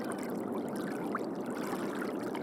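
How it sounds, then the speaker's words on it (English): The Spree river flows past as a steady, soft wash of moving water, continuous and fairly distant with no voices. "Looking at the flowing Spree"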